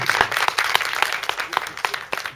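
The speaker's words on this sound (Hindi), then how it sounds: "आपकी तालियों की गड़गड़ाहट बता रही है" A theatre audience claps after a song, with distinct individual claps standing out in a brief, moderately loud burst of applause.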